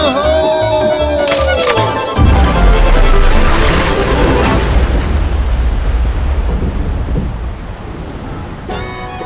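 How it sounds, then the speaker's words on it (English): A staged tower explosion effect at a Silver Dollar City theme park show: a loud, close boom erupts after a rising tone and swells into a long rumbling roar that slowly fades, with crowd noise underneath. "Tower's gonna blow. Fire in the hole!"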